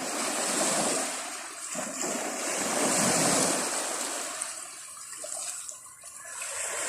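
Sea waves wash onto the shore at Cabalian in a continuous rushing surge, with wind noise buffeting the microphone throughout.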